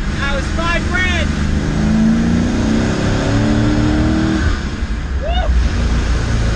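An old muscle car with a 750+ horsepower engine rumbles and revs hard under acceleration, loud and close from inside the cabin, while people whoop and talk over the engine roar.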